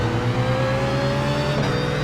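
A BMW Z4 GT3 engine in a racing video game at Monza drones steadily under acceleration, a loud, close, continuous roar that holds its pitch and then shifts slightly near the end.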